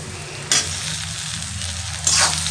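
Chopped tomatoes hitting hot oil in a pan for a chickpea dish, a loud sizzle bursting up twice over a steady frying hiss, close and with no voices.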